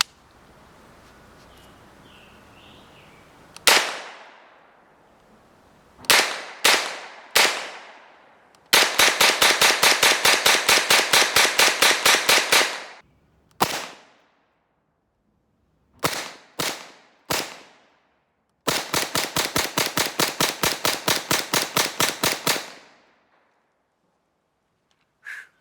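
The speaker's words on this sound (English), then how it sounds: "Let's shoot the rest of these off." An HK UMP fitted with an Omega Gideon suppressor fires outdoors in sharp, loud cracks: single shots and quick groups of three, plus two long rapid strings of fast semi-automatic fire, with quiet gaps between them.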